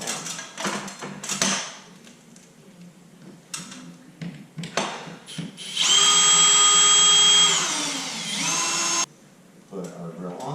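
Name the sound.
power drill screwing down a subwoofer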